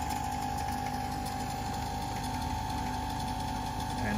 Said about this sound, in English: Let's turn the lathe on. We'll engage power feed.